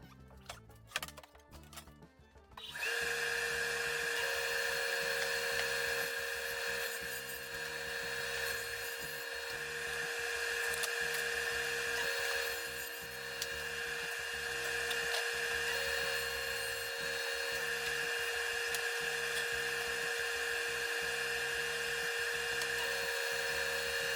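A power saw cuts wooden panels to height for a Craftsman blanket chest, spinning up after a brief clatter and then droning loud and steady, its pitch dipping slightly with each pass through the wood.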